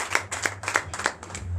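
Congregation at a night deliverance and prophecy service in Comé, Benin claps in unison, about five sharp rhythmic claps at a steady pace over a low hum.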